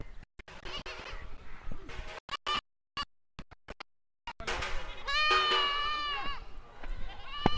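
Goats and young lambs on a large goat farm in Kerala, bleating in a loud run of wavering calls in the latter half, after scattered clicks and knocks and brief voices.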